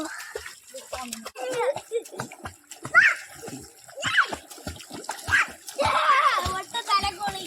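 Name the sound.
people splashing while bathing in a canal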